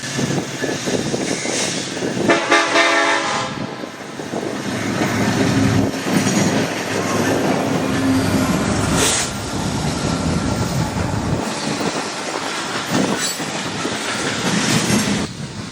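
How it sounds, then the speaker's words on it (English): A loaded coal train from Colorado bound for the NRG plant at Smithers Lake, Texas, rolls past close by near Tower 17 with a continuous loud rumble, rhythmic clickety-clack of wheels and occasional wheel squeal. "This is one of the coal trains that originates from Colorado and goes to Smithers Lake to the NRG plant"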